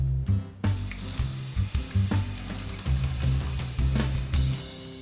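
Tap water running into a bathroom sink to wet a toothbrush, a steady close splashing stream with slight shifts in the flow as the brush moves under it.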